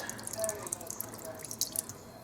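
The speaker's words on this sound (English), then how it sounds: "add some more water, some fresh water." Fresh water runs into a kitchen sink during squid tempura and fries preparation, a close, steady splashing and dripping trickle with no talk.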